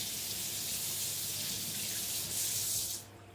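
Tap water runs steadily over a sharpening stone as it is rinsed at a knife-sharpening bench, a continuous close splashing hiss that cuts off near the end.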